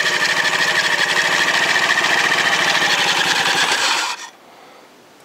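A Honda Ruckus scooter engine with a variator, belt and rollers revs steadily and loud with a dense buzzing rattle for about four seconds, then cuts off abruptly into near silence.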